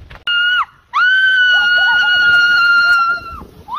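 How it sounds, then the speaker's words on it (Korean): A woman sledding down a snowy slope on a winter mountain lets out two loud, sustained high-pitched screams, one short and one long, close to the microphone. "이번엔 누나 씨의 비명을 들어보자."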